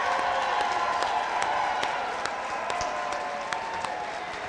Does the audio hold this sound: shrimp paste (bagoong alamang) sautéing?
no